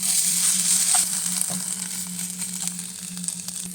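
A spinach and egg omelette fries in a pan with a steady, loud sizzle throughout. A few soft clicks and stirring touches sound within it, and nobody speaks.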